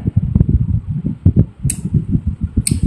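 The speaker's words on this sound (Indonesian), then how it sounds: "Suara kipas, panas kalau nggak pakai kipas." An electric fan runs close by with a steady, fluttering low whir that pulses slightly, broken by two brief high chirps, with no one talking.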